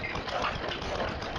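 A stationary engine at a steam rally runs at a steady, even pace, a continuous close mechanical drone with no break.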